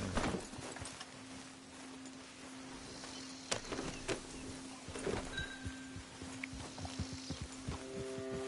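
A horse walks in the open world of Red Dead Redemption 2, its hooves clip-clopping in a loose rhythm over soft ground against quiet outdoor ambience, fairly faint with no talk.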